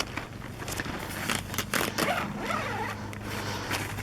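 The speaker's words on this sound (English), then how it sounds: "unvelcro the tent and unzip it so we can go inside" Zipper of an Azurec 3 person tent being pulled open in several rasping strokes, close and crisp, with brief pauses between pulls and some fabric rustle.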